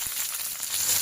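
Onions fry in hot oil with a bay leaf and green chilies while cooking chana masala, a brief, close, steady sizzle and hiss with no talking.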